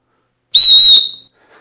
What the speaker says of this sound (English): such a little emergency whistle is always useful